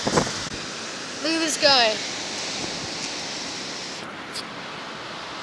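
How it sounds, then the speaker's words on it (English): Steady broadband wash of ocean surf rolling onto a beach, continuous and moderately close, with a voice and a brief high squeal or bark-like sound briefly over it. "we could watch the waves"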